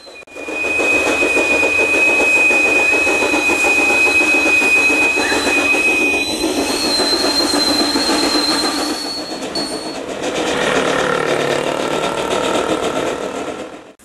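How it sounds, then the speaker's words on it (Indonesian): A Du Croo & Brauns steam locomotive hauls a string of plantation rail lorries, with a steady loud rumble and rhythmic clatter of wagons rolling along the track throughout, plus a thin metallic squeal of wheels. "Muntik ini mampu menarik rangkaian hingga 20 lori."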